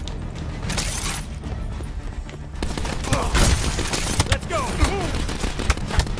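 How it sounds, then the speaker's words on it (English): Hellstorm missile strike in the Call of Duty Black Ops 4 video game, a dense barrage of loud explosive blasts, gunfire and mechanical clatter, with a voice speaking briefly over the chaos. "Got an inbound Hellstorm missile"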